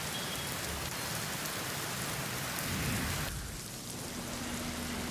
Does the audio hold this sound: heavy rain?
yes